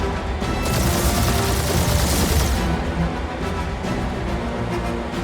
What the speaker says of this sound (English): Just make sure you're shooting while you do it.